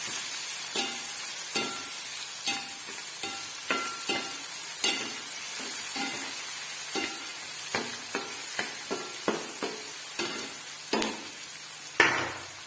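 Onion-garlic masala with goda masala and coriander powder being stirred and sautéed in a pan, a steady faint sizzle broken by regular scraping stir strokes roughly every second.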